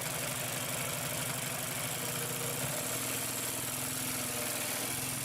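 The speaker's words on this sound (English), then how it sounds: "We're going to go back to 2 layers and continue to sew." Consew P2339RB double-needle walking foot upholstery machine stitching through layers of upholstery material, a steady fast motor hum with rhythmic needle pounding that continues evenly and fairly loud throughout, no voices.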